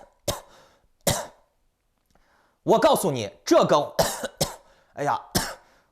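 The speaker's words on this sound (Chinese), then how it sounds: "我现在咳嗽越来越厉害了" A man gives two short, sharp coughs close by, then starts speaking Mandarin in a steady, animated voice.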